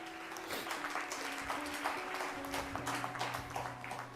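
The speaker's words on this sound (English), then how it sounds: "Only parents clapping." A small group of parents clap at a motivational speech event, a moderate patter of overlapping handclaps with a few voices murmuring underneath.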